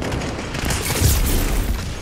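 A grenade blast in a first-person shooter game: one dull, heavy boom rolling through the whole moment, loud and close, with no talk over it.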